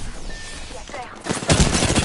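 Gunfire in the video game Apex Legends, a burst of rapid shots rising loudly in the second half after quieter game sounds, with a player talking over it.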